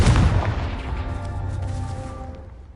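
A Confringo fire spell explodes in Hogwarts Legacy: a loud, deep blast at the start followed by a rumbling, ringing tail that slowly fades.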